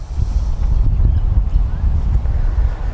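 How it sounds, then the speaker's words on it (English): Strong wind ripping across a golf driving range, buffeting the microphone with a loud, continuous low rumble and gusty roar for the whole stretch, with no talk. "the wind here is just ripping across here"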